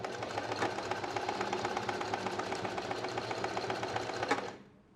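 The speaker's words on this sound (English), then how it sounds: "I'm just going to do a few zigzag stitches to make it extra strong" A sewing machine sewing zigzag stitches on an elastic channel of a maxi skirt: a fast, steady mechanical whirr with rhythmic needle clatter, close, running continuously before stopping abruptly at the end.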